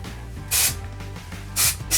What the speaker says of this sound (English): I'm going to use my L'Oreal dry shampoo.